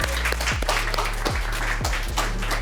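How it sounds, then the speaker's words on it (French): A crowd at a boxing event applauds after the judges' decision, brisk continuous clapping over a deep, pulsing thump of loud music in the hall. "On applaudit bien fort."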